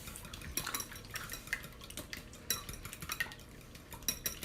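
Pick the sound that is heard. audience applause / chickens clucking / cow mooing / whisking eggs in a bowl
whisking eggs in a bowl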